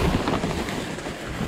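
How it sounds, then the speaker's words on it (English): Wind gusting outdoors in a backyard, a close rough rumble buffeting the microphone with uneven surges over about a second and a half, no voices. "Gee, the wind has shifted"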